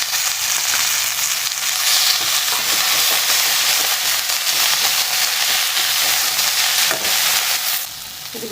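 Coriander leaves sautéing with tamarind in a pan for chutney give a steady, close sizzle with stirring scrapes throughout, easing off slightly near the end.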